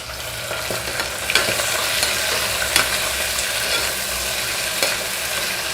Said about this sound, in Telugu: ఇలా కొంత మీడియం ఫ్లేమ్లో మనము ఈ ముక్కలు వేగేంత వరకు స్టవ్ని మీడియం ఫ్లేమ్లో ఉంచుకుందాము.